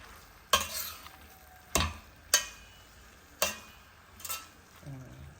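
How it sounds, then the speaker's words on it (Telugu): A tomato paneer curry stirred in a pan, giving a handful of sharp, separate scraping knocks of the spoon against the pan over a faint low simmer, with quiet gaps between strokes. "మంచిగా కూర మొత్తం తిప్పేసుకొని"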